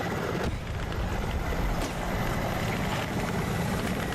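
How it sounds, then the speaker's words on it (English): An attack helicopter in a multicrew tank combat game drones steadily with a loud, rumbling rotor and engine wash that fills the whole stretch, no speech over it. "I didn't recognize it was an attack chopper."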